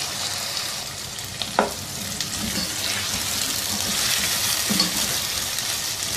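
Sliced onions fry in a pan with garlic ginger paste, giving a steady soft sizzle with occasional stirring clinks and scrapes, close by and without talk.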